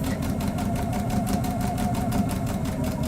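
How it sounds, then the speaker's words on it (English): Steady mechanical whirring of a sewing machine stitching quilt pieces at the smallest stitch length, a continuous rapid rattling hum with no pauses. "You want to set your sewing machine to the smallest stitch length."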